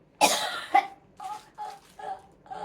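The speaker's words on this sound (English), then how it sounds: "Cough it out." A harsh cough bursts out, followed by a second, then a few weaker, hoarse coughs trailing off at close range.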